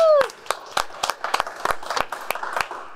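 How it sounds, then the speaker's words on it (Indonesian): A small group gives a brief welcome, with about a dozen separate hand claps landing in an uneven rhythm, close and fairly loud, after a short tonal sound at the start. "Tepuk tangan, teman-teman."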